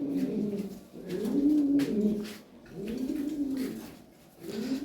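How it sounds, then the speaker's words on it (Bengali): Racing pigeons coo in close, repeated rolling calls, three long phrases with short gaps between them, loud and clear with no talking over them. "এগুলা রেজার কবুতর তো"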